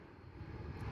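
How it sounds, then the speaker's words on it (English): A Jet2 Boeing 737-800 takes off from Bristol Airport bound for Mahon, its engines a steady, low, broadband roar that swells slightly over a single second. "Jet 2 heading out to Mahoon, Boeing 737-800 in the .com livery."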